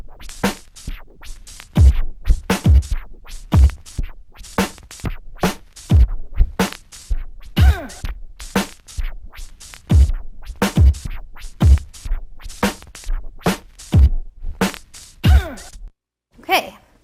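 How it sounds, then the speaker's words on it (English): DJ beat juggling on turntable records, a steady run of sharp, punchy drum hits repeated and re-timed in a tight, chopped rhythm with brief scratchy touches between beats, loud and close with no talking. "you're just lightly touching the record in between each beat."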